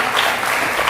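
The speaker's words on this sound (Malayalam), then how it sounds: "എല്ലാവർക്കും ചേർന്ന് നമുക്ക് കൈയടിക്കാം." Audience clapping together at a Sunday school anniversary program, a dense, loud, steady burst of applause filling the whole moment.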